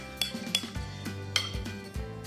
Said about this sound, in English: Scrape the extra in.